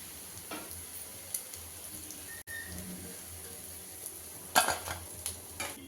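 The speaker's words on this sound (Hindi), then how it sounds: "इसी तरह से उलट पलट करते हुए पकौड़ा को क्रिस्पी होने तक फ्राई कर लेते हैं" Battered arbi (taro) leaf pakoras frying in hot oil with a soft, steady sizzle, punctuated by the occasional clink and scrape of a spatula turning them in the pan; fairly quiet and close, with no talking.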